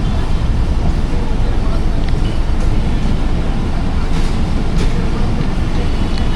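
The Hazara Express rolls along the rails at the start of its journey toward Hyderabad, a loud, close, unbroken rumble with a few faint rattles and clicks over a heavy low roar.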